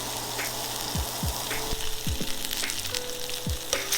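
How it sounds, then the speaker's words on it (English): Lamb searing in a hot pan gives a steady, close sizzle and crackle, with a few soft low knocks and clatters scattered through it and no talking. "we're just gonna let it sit, get nice and seared"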